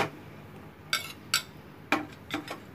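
Eggs being mixed with chopped onion, chili, capsicum and tomato in a bowl for a bread omelette, heard as several soft utensil clinks and scrapes against the bowl in a quiet kitchen, with no talking.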